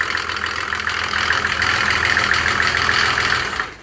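A Mercedes OM603 diesel engine driving a motor pump, started without glow plugs, runs with a steady, loud, rough mechanical clatter throughout. It cuts off at the very end, with no voices.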